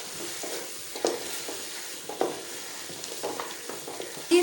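Onion-and-spice masala for a Sindhi-style fish curry frying in a pot, a quiet steady sizzle broken by intermittent scrapes and clacks of a spoon stirring, heard alone.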